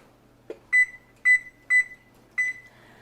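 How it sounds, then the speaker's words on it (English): A kitchen timer beeps four times in a steady, evenly spaced pattern, each tone bright and clear against a quiet room, set while sourdough sandwich bread dough rests to autolyze. "I'm going to set a timer"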